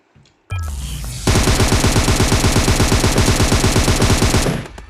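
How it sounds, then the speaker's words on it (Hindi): Sustained rapid automatic gunfire in a battle royale video game, a loud, close burst that starts after a brief shot and runs for several seconds before cutting off. "आप फायर सुन ही सकते हैं"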